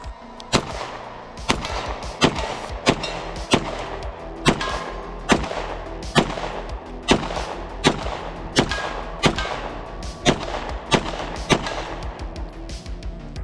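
A Beretta 92 pistol fitted with a GG92 compensator fires a long series of loud, sharp shots at a steady, unhurried pace, roughly a dozen reports, each with a short echoing tail.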